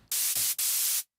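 Bright, hissy high-passed noise from a Novation UltraNova synthesizer in three bursts, the first two cut short and the last held about half a second before stopping abruptly.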